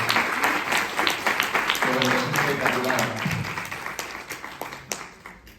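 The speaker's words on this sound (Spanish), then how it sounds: "un aplauso fuertísimo para Nico" A school audience gives a burst of loud applause, sharp, dense clapping that is strongest at first and then gradually thins and fades, with a voice speaking briefly over it partway through.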